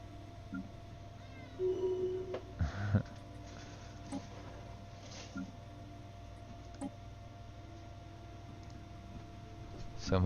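A pet cat meows a few times at a low level in a quiet room, brief mewing calls over a steady background hum, with no talk.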